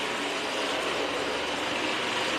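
A Kobold vacuum cleaner washes and vacuums a floor, giving a steady, continuous whirring motor noise with a faint mechanical rattle, close and unbroken, with no voices.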